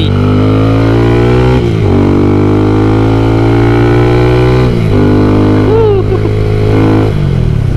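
A VF3i motorcycle fitted with a modified exhaust roars close by while being ridden, its engine note climbing through revs, dropping briefly at gear changes, then pulling hard again, loud and sustained.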